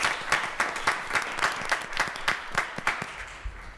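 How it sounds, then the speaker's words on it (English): A small audience at an election candidate night claps for the parents of delegates, a modest, fairly sparse round of applause with distinct individual claps that thins out toward the end. "I'd like to give you guys a round of applause just for trusting us"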